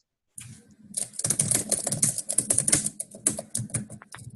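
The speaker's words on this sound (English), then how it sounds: "that is the loudest typing I have ever heard" Rapid, loud clacking of keys on a computer keyboard, close and continuous in quick irregular bursts, with no talking.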